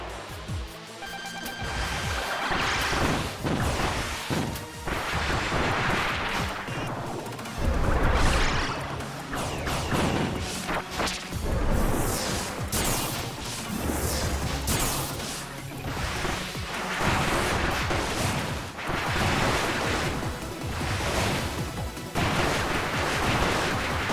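Boss Crown Doomer in Kirby's Return to Dreamland Deluxe sets off dense, lingering game explosions, a continuous barrage of loud booms, crashes and whooshes layered over busy in-game music and effects with no pause.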